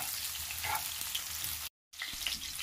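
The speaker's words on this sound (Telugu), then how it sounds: "సో ఈ ఉల్లిపాయలు త్వరగా వేగాలంటే కొద్దిగానే సాల్ట్ వేసుకుంటున్నాను." Sliced onions fry in oil with a little salt, a faint, even sizzle with light crackles, briefly cut to silence before resuming at the same low level.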